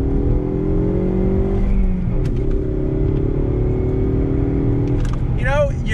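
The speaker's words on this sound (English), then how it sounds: "let's go back on throttle" Manual six-speed Ford Mustang EcoBoost accelerating on throttle, a loud, close engine drone climbing in pitch through a gear change, with a person talking over it and a brief whine near the end.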